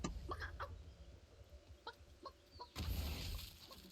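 Chicken clucking in the Realm Royale video game, several short clucks spread over a few seconds, moderately close, followed by a louder burst of broadband game noise near the end.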